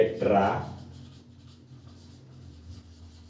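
A marker squeaking across a classroom board during an organic chemistry lesson, one short burst of scratchy strokes near the start, then faint rubbing under a low hum as someone talks.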